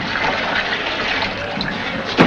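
Water pouring steadily into a pail for a foot soak, a continuous close, loud rushing splash with a brief knock at the end.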